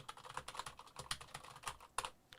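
Quick, irregular keystrokes on a clicky Keychron mechanical keyboard, each key giving a sharp tap close to the microphone. The typing stays fairly quiet, with bursts of several presses in a row and no talking.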